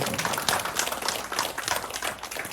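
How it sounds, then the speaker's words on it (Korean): Audience applause at a book-report award ceremony hosted by Younggwang Books in Busan, steady, close clapping from a crowd filling the whole stretch with busy, rhythmic hand strikes. "박수로."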